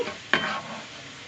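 Oil sizzles steadily in a pan of frying okra chips, with a sharp burst of crackling as something is stirred or dropped in, then settles to a gentle fry.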